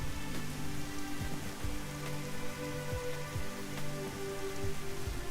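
Steady rain pours in the video game Dig or Die, a constant dense patter of drops on surfaces that holds at an even level throughout, with no voices.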